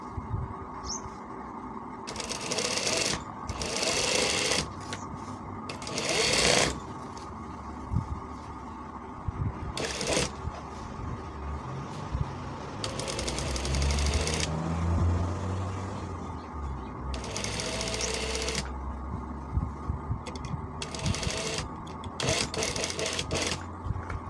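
A household sewing machine stitches a kameez seam in several short, close bursts of fast rattling with pauses between, amid handling clatter and a low background hum.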